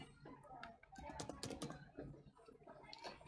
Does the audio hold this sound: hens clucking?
no